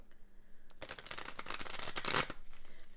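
A deck of tea leaf oracle cards gets shuffled by hand, a rapid run of papery riffling and flicks lasting about a second and a half after a brief quiet start.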